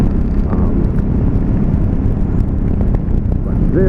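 A 2017 Ducati Supersport motorcycle engine lugs steadily at about 3,000 rpm during a test ride, a loud, constant low rumble with wind noise.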